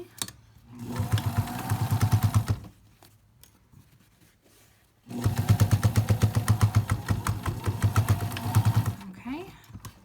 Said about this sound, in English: And now we're done with the sewing on this mask.